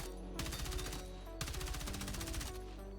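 An M4 rifle firing in the video game Battlefield 6, sounding as two rapid automatic bursts of sharp, punchy shots, each lasting about a second, with a brief pause between them and no talking.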